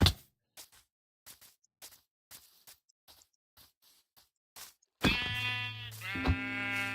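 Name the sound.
sheep bleating in the video game Minecraft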